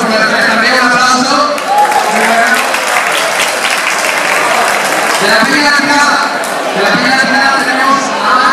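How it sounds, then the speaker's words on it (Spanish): Sustained audience applause fills a crowded hall at the Espicha 2014 festival in Cangas del Narcea, steady and dense throughout, with chatter and a voice on a loudspeaker mixed in. "también un aplauso"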